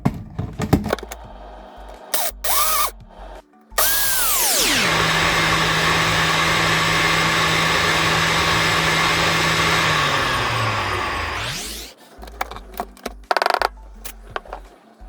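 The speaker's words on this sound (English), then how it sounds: "It's a chopper and it's a blender, so it depends on what you want to use it for" An electric chopper-blender grinds spices for a spicy Cameroonian tilapia pepper soup, whirring up to a loud steady motor drone for about seven seconds before spinning down, with clattering handling noises before and after.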